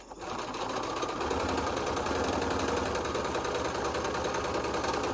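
A sewing machine stitching quilt rows together for a Southwest Snowball quilt runs in a steady, close, continuous mechanical whir that starts after a short quiet moment and holds evenly.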